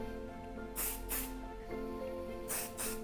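Three short hissing bursts of an aerosol hair texture spray, two close together then one after a pause, over a low steady background hum.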